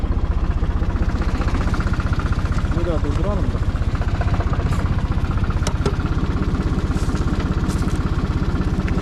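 Tractor engine idling steadily with the PTO clutch engaged on a farm, a loud, close, rhythmic low chugging that runs without a break, with brief clatter and a voice now and then.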